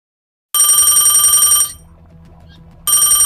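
Telephone bell ringing loud and close in two long bursts with a quiet gap between them, no talk over it.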